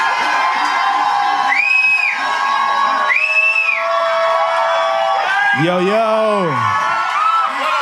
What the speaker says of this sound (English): I need you to give me a big shout for Mr. Sean C. Johnson